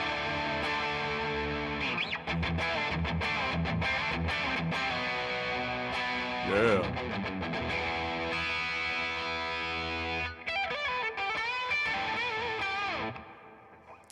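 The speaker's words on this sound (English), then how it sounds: "And that is just guitar through amp." Electric guitar played straight through a Marshall-style amp with a distorted, bluesy rock tone, chords and sustained notes ringing loud and close, with a brief spoken word.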